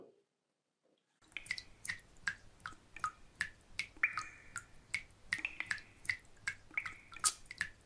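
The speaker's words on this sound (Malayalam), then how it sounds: "ആ ടാപ്പിൽ വെള്ളം അങ്ങനെ ഒഴുകിപ്പോകുന്നത് കാണുന്നില്ലേ" Water from an open outdoor tap lands in quiet, rhythmic drips and splats after a second of near silence, each drop distinct and fairly close.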